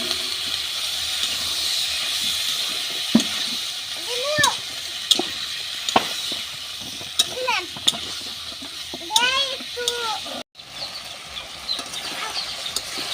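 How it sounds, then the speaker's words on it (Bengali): Flat beans and potatoes sauté with spices in a pan, making a steady hissing sizzle with occasional stirring clicks and brief voices in the background. "সিম আলু কিছুক্ষণ কষিয়ে নিছি"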